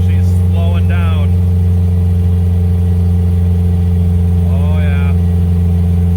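A 1989 Dodge Raider's engine drones loud and steady at wide open throttle in 5th gear climbing a 6% grade, a deep constant hum with a voice speaking briefly over it twice.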